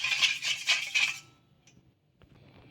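Spoon stirring salt and sugar into water in a bowl, a quick rhythmic clinking and scraping for about a second, close up, then fading to a few faint taps.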